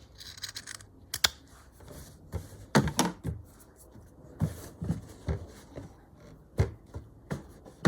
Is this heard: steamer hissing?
no